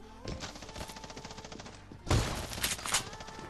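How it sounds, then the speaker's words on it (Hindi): Rapid bursts of gunfire in an online battle-royale style video game, with dense automatic shots throughout and a louder, heavier volley near the end, no voices over it. "एक शॉट मैंने भी मारा, बट उसका शॉट भाई लिटरली बहुत खतरनाक था"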